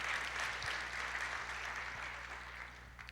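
A church congregation applauds during a sermon, a broad, steady wash of many hands clapping at moderate distance that gradually tapers toward the end, with no voices over it.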